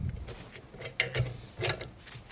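Ratchet working on a GM ball joint installation, a few short metallic clicks and scrapes in separate bursts, quiet and close with no talk.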